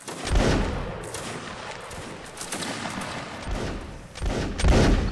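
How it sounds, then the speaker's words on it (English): Scattered musket volleys in Mount & Blade Warband's Napoleonic Wars, several rolling, crackling bursts of shots near and far, with heavier clusters at the start and end. "Fire at will, guys."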